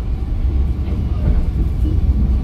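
A train runs straight through Cikampek station on track 3 aboard the Blambangan Ekspres from Banyuwangi to Jakarta, giving a steady loud rumble and rolling noise from inside the moving train.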